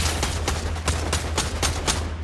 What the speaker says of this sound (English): But what are they even shooting at?